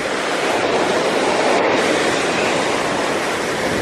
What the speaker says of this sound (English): it's really loud because of all the waves